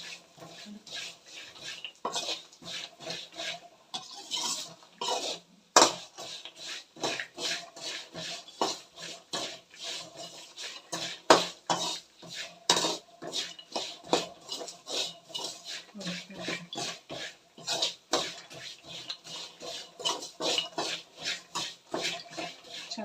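Spiced puffed rice being stirred by hand in a pan, producing a dense run of crisp rustling and scraping clatters in irregular bursts, close and fairly loud, with no voices.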